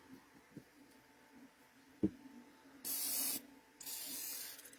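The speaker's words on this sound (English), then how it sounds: "So I gotta spray these." Two hissing aerosol spray bursts, the first short and the second longer, after a quiet stretch with a single soft knock.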